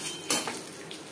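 Five-spice tempering fries in oil left from frying fish heads, a soft sizzle under a sharp metallic clink of a utensil against the pan and a lighter tap after.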